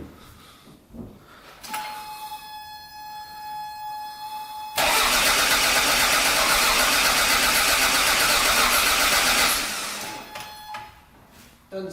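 A Toyota MR2 engine cranks hard without catching, a loud, steady churning burst lasting several seconds after a quieter stretch with a thin whine, then dropping back to near silence.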